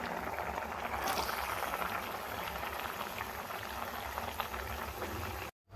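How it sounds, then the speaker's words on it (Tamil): Tamarind water in a pot comes to a boil, bubbling and simmering steadily with a dense, constant churning hiss, no voices, cutting off abruptly at the end. "புளி தண்ணி ஊற்றி ஒரு கொதி வந்த பிறகு"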